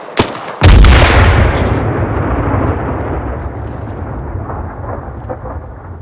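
An ammo box blows up in a video game scene: a sharp crack, then a huge booming blast that rumbles and slowly fades over several seconds, with no talking.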